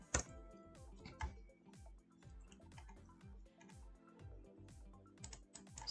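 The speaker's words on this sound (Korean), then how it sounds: "한 번 더 엔터를 눌러줘야 됩니다" Computer keyboard keys being pressed, including Enter, while operating church worship subtitle software; crisp clicks repeat throughout over a faint musical background, with no talk.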